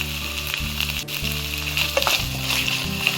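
Onions with ginger garlic paste and salt frying in a pan for a biryani, a loud close steady sizzle with occasional stirring scrapes and clinks.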